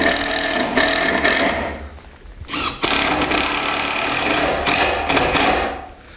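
A power driver sinks 3-inch GRK screws into the wooden base of a log kayak rack, with long whirring bursts broken by short pauses, loud and close.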